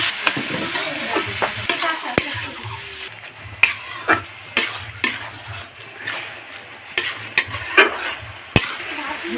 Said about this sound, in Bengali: লবণ হলুদ গুঁড়ো ভালোভাবে নাড়াচাড়া